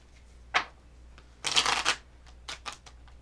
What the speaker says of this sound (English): We're going to shuffle this deck 3 times